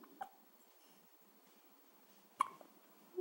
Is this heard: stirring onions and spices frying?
no